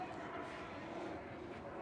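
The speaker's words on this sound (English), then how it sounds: "Planes going past, well that was a chopper." A helicopter passing overhead on a clear day, a faint, steady distant rotor-and-engine rumble over open outdoor ambience.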